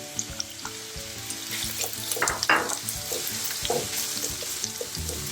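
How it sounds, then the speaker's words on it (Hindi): Onions sizzle and crackle in hot oil in a home kitchen, cooked for a restaurant-style paneer tikka biryani, with steady frying hiss and several clanks of a spoon stirring the pan, up close and fairly loud. "सो चलिए इसमें तेल को गरम कर लिया है मैंने। सो इसमें अब डाल देंगे अनियन को।"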